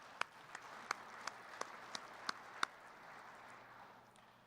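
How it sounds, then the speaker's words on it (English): Quiet, sparse clapping at a WBPC closing session, about eight distinct separate claps spread over a few seconds and then fading into room quiet. "Give yourself a round of applause"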